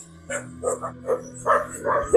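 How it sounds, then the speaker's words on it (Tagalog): Neighbours' dogs bark in a short series of close, repeated yaps and barks over a low steady background hum. "Ito ay aso ng mga kapitbahay namin"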